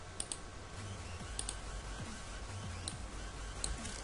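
Someone types a username on a computer keyboard, a soft, quiet patter of key clicks spread across a few seconds over a low background hum.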